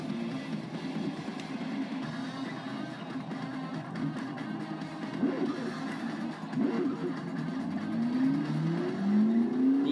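A race car in Forza Motorsport 6 launches off the line at Spa-Francorchamps, its engine droning loud and steady, then revving up through rising pitch as it accelerates away.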